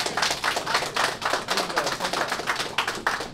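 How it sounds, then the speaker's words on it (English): A boxing crowd applauds the two fighters after a bout, close, rhythmic hand claps in quick succession that sound like a few nearby people clapping loudly rather than a wide arena roar. "I think there's a round of applause for these guys tonight."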